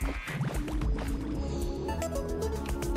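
Water splashes and gurgles in the Terraria game near an ocean, a busy stretch of liquid sloshing and dripping sounds over game music, with no talk.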